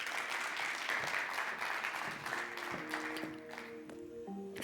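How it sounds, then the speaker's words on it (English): Audience at a Standard Bank business banking dialogue applauding a speaker welcomed to the stage, dense clapping that thins out as tones of a musical sting come in toward the end. "Let's give him a big round of applause."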